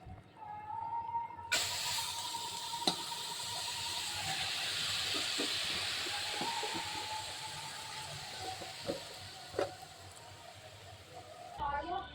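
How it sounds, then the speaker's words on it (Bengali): Spinach frying in a pan until its water cooks off, a steady, fairly loud steamy hiss and sizzle holding for most of the stretch, with a few clinks and soft taps over it before it cuts off. "যতক্ষণ অবধি জল না শুকাবে ততক্ষণ অবধি এটাকে ভাজতে থাকবো"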